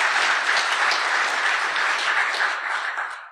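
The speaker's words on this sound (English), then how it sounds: "Let's give a round of applause for James for all this awesome research." Audience at a security research talk bursts into sustained applause for a presenter, dense and loud, holding steady before tapering off at the end.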